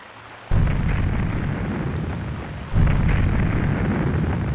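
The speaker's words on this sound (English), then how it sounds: "2 explosions rocked the village." Two heavy wartime explosions boom a couple of seconds apart over a French village, each followed by a long rolling rumble that fills the air.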